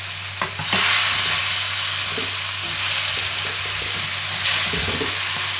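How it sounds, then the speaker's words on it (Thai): Eggplant fries in oil in a pan, a loud, close, continuous crackling sizzle that stays dense throughout, with a few brief scraping knocks at the start and near the end. "ตั้งกระทะใส่น้ำมันลงไปแล้วก็ตามด้วยมะเขือ"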